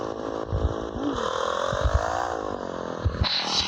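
Motorcycle engine in a video game, droning and revving steadily with rising pitch, broken by clattering thumps of impacts and a brief harsher burst near the end.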